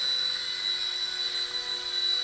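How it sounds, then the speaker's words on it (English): A Silverlit Spy Cam II remote-control toy helicopter in flight, giving a steady high-pitched electric whine with a faint rotor buzz, constant and close throughout, no voices. "just a really nice flying helicopter"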